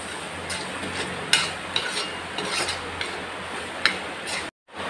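A masala with Kashmiri chilli powder roasting and being stirred in a pan, with soft steady sizzling and a few sharp scraping ticks from the spoon against the metal, fairly close and without talk.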